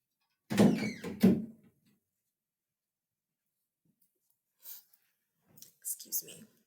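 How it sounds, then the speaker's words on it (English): An indoor door is pushed shut with two quick thumping clunks, followed by silence and a few faint rustles and breaths. "I have to shut this door."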